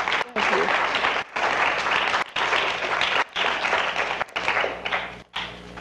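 Sustained audience applause at a university poetry center reading, a dense roomful of clapping that fills the space, swelling and dipping slightly but continuing steadily throughout.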